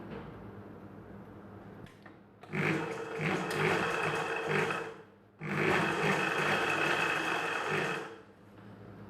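A sewing machine stitching a blouse hook belt, running in two steady bursts of rapid mechanical whirring separated by a short pause, heard close and clear.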